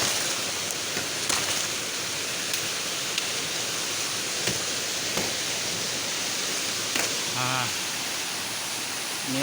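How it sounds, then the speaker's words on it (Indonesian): A steady, broad rush of falling water from the Beutong Ateuh Banggalang waterfall fills the scene continuously, with a few faint clicks and brief sounds over the roar. "Inilah air terjun."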